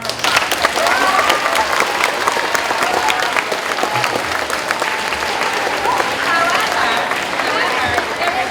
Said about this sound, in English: So let's give them all a round of applause.